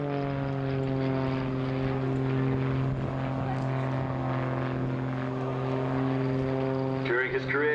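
An RAF Grob Tutor propeller plane rolls between level and inverted flight in a flip-flop display manoeuvre, its engine droning steadily and loudly throughout with shifting pitch, and a voice talks over it.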